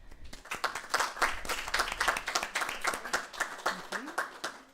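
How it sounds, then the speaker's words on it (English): Applause from attendees at a school district board of education meeting, a few seconds of moderately loud, fairly sparse clapping with faint voices underneath. "A big round of applause."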